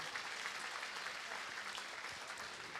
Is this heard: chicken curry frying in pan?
no